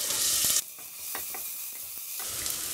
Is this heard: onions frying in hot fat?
yes